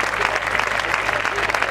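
A crowd at a political party rally for the 2019 municipal elections in Córdoba applauding loudly, a dense continuous clatter of hands that stays steady throughout.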